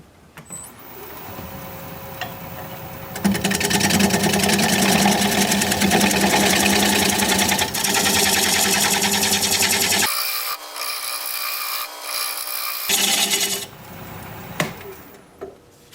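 Wood lathe turning a piece of aromatic cedar while the bottom is flattened off, a steady loud motor hum with scraping tool noise, easing into a quieter, thinner whine partway through before picking back up.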